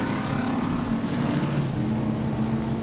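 A steady, loud engine roar of race cars at Sebring drones throughout, a continuous mechanical rumble of fast vehicles passing without a break.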